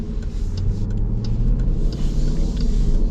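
A Dodge Durango R/T V8 SUV engine hums steadily while driving, a continuous low rumble with road noise held at an even level throughout.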